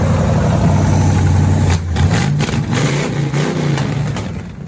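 A loud 1984 Pontiac Grand Prix race car engine revs hard and snarls continuously, its pitch dipping and climbing again midway before easing off toward the end.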